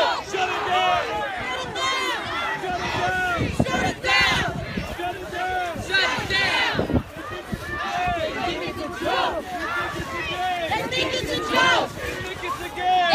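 A protest crowd on a highway shouts and chants in loud overlapping bursts, with many voices yelling and running footsteps amid a constant roar of babble.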